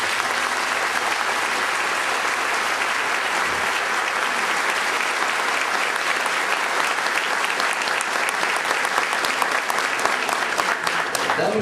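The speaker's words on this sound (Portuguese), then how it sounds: "Eu quero que sejam aplaudidos agora" A church congregation at a parish gathering applauds to welcome a visiting group. Thick, continuous clapping from many hands carries evenly throughout, fairly loud and close.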